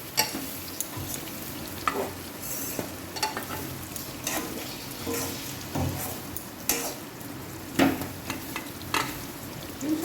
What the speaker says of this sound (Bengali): এর ভেতর এবার আগে থেকে ভিজিয়ে রাখা কাজু বাদাম এবং কিশমিশগুলো আমি দিয়ে দেব।